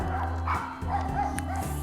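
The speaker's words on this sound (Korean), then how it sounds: "낯선 카메라의 방문을 요란하게 반기는 강아지 친구들이 있었는데요" Several small dogs at a dog kindergarten bark and yip excitedly at once in a busy, echoing room, a noisy overlapping clamor with continuous background hum.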